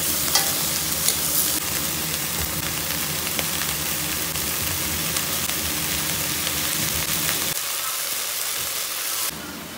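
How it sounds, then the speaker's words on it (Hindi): Chopped onions and okra frying in a pan, a loud continuous sizzle with occasional stirring scrapes, close up, no talking, ending with a brief drop in the sizzle. "अब हल्का सा भिंडी को भूनने के बाद ये प्याज काट रखा है, प्याज डाल देंगे इसके अंदर।"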